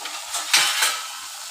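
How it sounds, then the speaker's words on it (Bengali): Potato pieces frying in oil in a pan, a steady close hissing sizzle with a few louder stirring scrapes partway through, for a chicken curry, no talking. "আলুটা প্রায় ভাজা হয়ে এসছে।"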